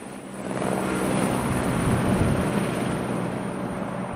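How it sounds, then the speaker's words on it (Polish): A helicopter lands on a school roof, its steady loud rotor and engine roar filling the scene from close by without letup and with no voices over it. "Na dachu naszej szkoły wylądował właśnie helikopter"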